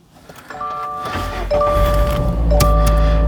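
A 2025 Subaru BRZ with a manual gearbox has its ignition switched on, and chimes and a warning tone sound before the engine cranks and catches into a loud, steady idle, close by.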